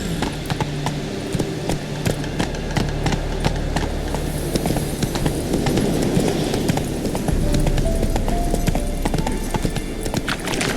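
Horse hooves galloping in the Witcher 3 video game, a rapid, steady clatter of hoofbeats under a dense mix of game ambience and music, loud and continuous throughout.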